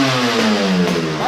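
Yamaha RD 350 motorcycle engine revving close by, the revs dropping and then climbing quickly in a steady, loud, continuous roar with no talk.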